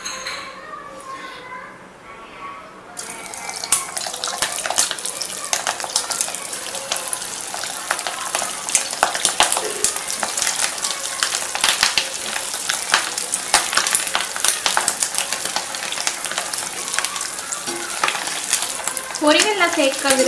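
Madurai-style mutton keema balls are dropped into hot oil and deep fry with a bright, crackling sizzle that starts suddenly and continues steadily, with occasional utensil clinks and a faint voice in the background.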